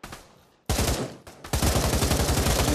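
Machine gun fire in the VR shooter Pavlov Shack, with a few loud single shots and then a sustained rapid automatic burst, close and dominant.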